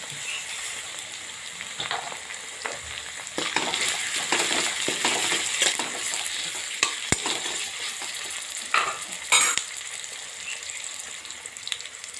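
Tomato and vegetables frying in ghee: a steady close sizzle with intermittent stirring clicks and scrapes against the pan. No voices are heard.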